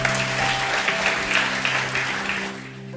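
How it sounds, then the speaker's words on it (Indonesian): Steady applause from a church congregation during an Indonesian sermon, a dense continuous patter of many hands that fades slightly at the end, with a low hum underneath. "Beri tepuk tangan"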